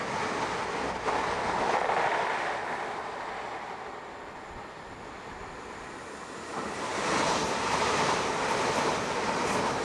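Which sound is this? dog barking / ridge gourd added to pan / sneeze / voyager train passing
voyager train passing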